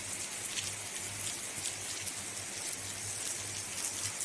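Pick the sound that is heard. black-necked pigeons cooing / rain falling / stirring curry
rain falling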